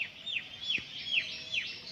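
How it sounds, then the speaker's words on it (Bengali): A lone dove perched on a water pipe near a house gives a run of bright, repeated call notes, about five evenly spaced phrases, clear and fairly close against a quiet morning background. "একটা ঘুঘু এসে বসলো জলের পাইপের উপরে"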